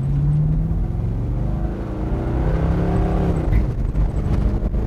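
A 1933 Ford three-window coupe with an LS V8 accelerates hard out into Detroit traffic, its loud, close engine note rising through the revs with a deep exhaust rumble and no talk.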